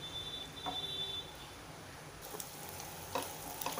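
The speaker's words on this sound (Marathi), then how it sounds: "तेल आपलं छान गरम झालेलं आहे। आपण हे करटोले त्यात सोडूया।" Kartoli (spiny gourd) hits hot oil and sets off a steady, close hiss of sizzling frying, with a few light clinks of the pan and a faint tone at the start, no talking.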